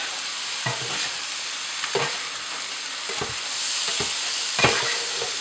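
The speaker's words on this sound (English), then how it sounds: "And then I give it a good stir around." Food sizzles steadily in a hot pan while a utensil stirs it around, with a few distinct scraping strokes heard up close over the constant frying hiss and no talking.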